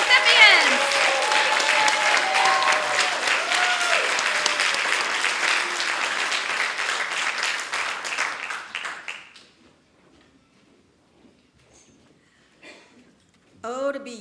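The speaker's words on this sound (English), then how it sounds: "Let's have another round of applause for the 2024 Sarah Siddons Scholarship Recipients." Sustained audience applause fills a theatre at an award benefit honouring scholarship recipients, steady and dense for about nine seconds before cutting off to near silence, with a brief burst of sound at the very end.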